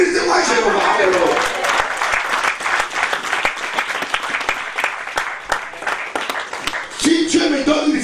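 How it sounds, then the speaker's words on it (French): Congregation at a church service breaks into sustained applause and clapping, a dense wash of hands that stays loud throughout, with voices mixed in near the end. "Applaudissez-moi, Jéhovah."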